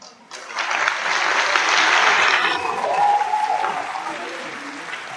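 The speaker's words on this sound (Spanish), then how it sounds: "Fuerte el aplauso al hermano José Antonio Díaz de Medina." Applause for the speaker at an educational symposium in Bolivia, a full audience clapping steadily that swells, holds for several seconds, then tapers slightly without stopping.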